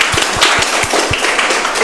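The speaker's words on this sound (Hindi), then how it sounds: "ताली बजाओ सारे." An audience claps for Priyanka as she comes on stage at an English-speaking seminar, a dense spread of hand claps holding steady across the whole stretch at close range with no voices over it.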